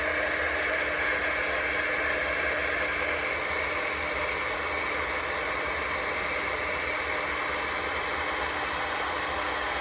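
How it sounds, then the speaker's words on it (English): A heat gun melts embossing powder on a stamped greeting card, producing a steady, loud, breathy whoosh that runs unbroken throughout, with no voices. "it is going to get noisy again for a minute. I am going to just heat emboss this"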